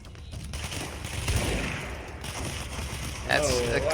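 Video game gunfire from the game Control: sustained rapid shooting and impacts throughout, fairly loud and dense, with a brief louder swell near the end.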